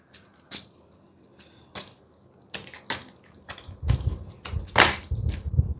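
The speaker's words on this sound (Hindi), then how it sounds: "Okay, the cards just flew away." Tarot cards flying out of a deck and scattering, heard as a run of close, sharp slaps and rattles that grows busier and louder toward the end.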